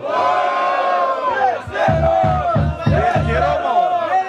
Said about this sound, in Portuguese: barulho, quem gostou da rima do freestyle do MC Johnny